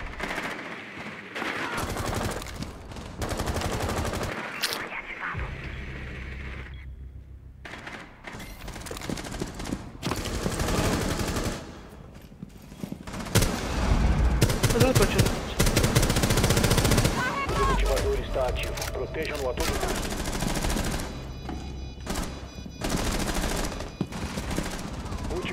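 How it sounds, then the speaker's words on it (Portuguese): Dense, rapid automatic gunfire and single shots from a video game shooter keep going almost without pause, loud and close, with bursts layered over one another and heavy low booms through the middle. "então é só entrar e atirar na cabecinha"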